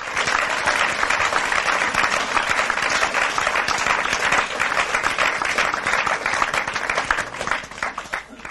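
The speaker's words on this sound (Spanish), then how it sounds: "Denle un aplauso a Jesucristo" Church congregation applauding during a Spanish-language service, a dense, steady wash of many hands clapping that holds strong across the whole stretch and tapers slightly at the end.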